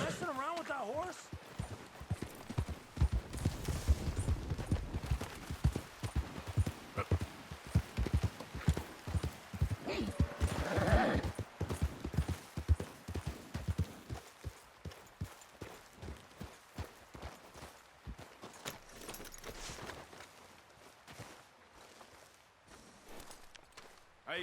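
Horse hooves clip-clop steadily in Red Dead Redemption 2 as the horse walks, a dense close rhythm that carries on for many seconds with game voices and ambience around it.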